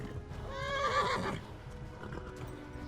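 A horse in the video game Kingdom Come: Deliverance whinnies loudly with a shaky, descending neigh, followed by a low, steady background rumble.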